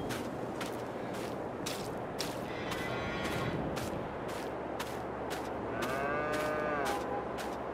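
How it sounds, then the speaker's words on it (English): Cows moo in Farming Simulator 22 on an old Polish farm, several drawn-out, loud calls repeating over a steady background of farm ambience, with no talking. "Probably could feed the cows some more."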